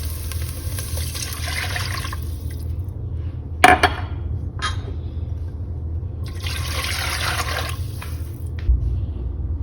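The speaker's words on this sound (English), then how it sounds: "we're going to go ahead and add in 8 cups of water" Water pours into a pot of sautéed onions and garlic for ramen, eight cups in all, arriving as two long rushing, splashing pours with a low steady hum beneath and a sharp clatter between them.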